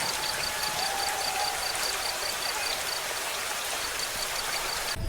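Steady, dense rain patters on a tin roof with no pauses, a constant hiss of drops close by and no voices.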